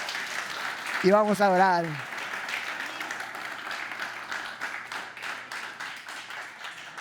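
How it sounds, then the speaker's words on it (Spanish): A church congregation applauds, with scattered hand claps continuing steadily under a voice preaching over a sound system. "den un aplauso fuerte a Jesús"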